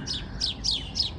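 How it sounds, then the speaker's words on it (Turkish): Bright, high chirping bird calls repeat in four quick phrases over a soft outdoor background. "Ama çok güzel ya şu kuşların sesi."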